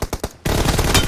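Rapid gunfire in a mobile team deathmatch shooter game: a quick burst of three close shots followed by a loud sustained stretch of automatic fire.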